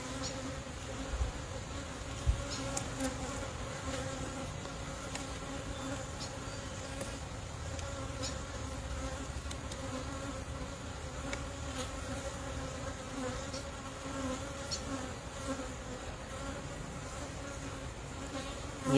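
Honey bees drone steadily around an open hive during an early spring inspection, a constant close buzz with a few louder passes near the microphone and no voices.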